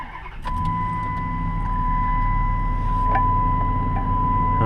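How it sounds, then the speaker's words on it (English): A 2007 Dodge Durango engine cranks and catches, then settles into a steady idle with a constant whine on top. The engine has a suspected worn idler pulley and a noise that grows with RPM. It is close and loud, with no talk. "Let's start it up and see if we can hear it."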